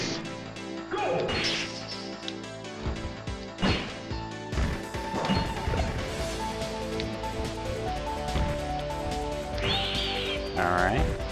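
Targets shatter in the Super Smash Bros. Melee break-the-targets stage, with crashing and whacking hits and swishing moves over steady game music and sound effects.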